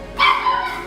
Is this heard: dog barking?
yes